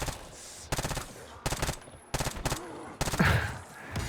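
Video game gunfire crackles in four rapid, automatic bursts separated by short pauses, loud and close, ending as the weapon runs dry.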